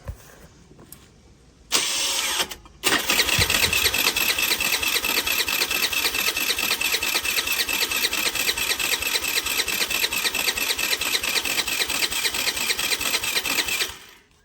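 A crashed and abandoned BT49QT-7 scooter engine cranks briefly, stalls, then catches and runs with a steady, loud buzzing rattle for about eleven seconds before cutting off.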